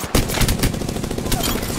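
Shots from a Kraber sniper rifle in Apex Legends ring out in a loud, dense run of booming bursts, close and punchy, with game noise filling the gaps.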